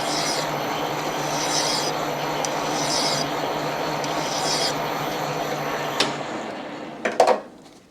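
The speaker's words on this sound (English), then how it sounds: "So I'll work at it with file a little bit more." A hand file rasps against a Suzuki RM125 crankshaft part in steady, continuous strokes, fairly close, ending with a few sharp knocks and clatter as the work is set down.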